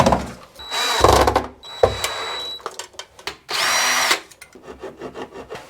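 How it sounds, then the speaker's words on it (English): A power drill drives screws into wood in several loud, close bursts of whirring motor, the pitch rising and falling as each screw bites, with short pauses and clunks between runs. "Those are good for screwing into wood, yeah? I'm going to try that one actually."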